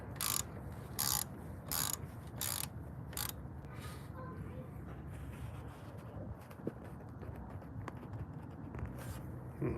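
A ratchet cracks loose a 10 mm bolt during a speed sensor replacement, with several short bursts of clicking in the first few seconds followed by quieter mechanical handling, close by.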